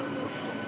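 A train pulling out of Digha at a 5:45 departure gives a brief, steady rolling rumble, heard close and continuous with no talk.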